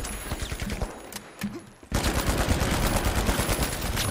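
Sniper and rapid gunfire in The Finals, a first-person shooter, with a few sharp shots at first, then a dense, loud burst of continuous automatic fire filling the second half.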